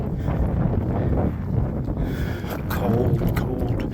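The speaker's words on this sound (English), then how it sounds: "Cold, cold wind blowing." Cold wind gusts across the microphone on a mountain hike to Mills Lake in Rocky Mountain National Park, a continuous rough rumble that swells and dips without speech.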